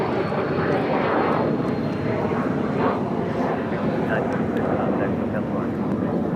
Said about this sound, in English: It's Fiji flight A10 coming up from Nandi